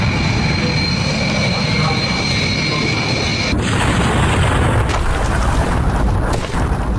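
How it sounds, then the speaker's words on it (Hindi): Animated simulation of an airliner taking off in Ahmedabad and crashing into a doctors' hostel building: a loud sustained engine roar with whining tones, then a sudden heavy impact boom midway followed by continued rumbling. "विमान जैसे ही टेक ऑफ करता है रनवे से आगे बढ़ते ही फौरन देखिए क्रैश हुआ, इमारत से टकराया"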